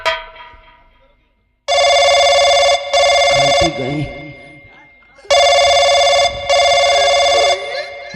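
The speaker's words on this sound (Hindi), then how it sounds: "फोन लगा थाने पे, तत्काल फोन लगा थाने।" A telephone rings in repeated loud electronic bursts, two pairs of rings separated by a gap, with people speaking in between and underneath.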